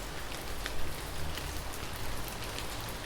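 Steady rain falls on a surface, a dense even patter with no voices and no breaks.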